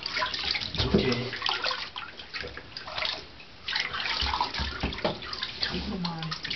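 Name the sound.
water running while bathing dog Molly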